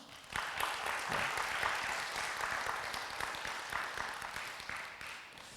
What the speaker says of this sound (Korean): 박수를 한번 보낼까요?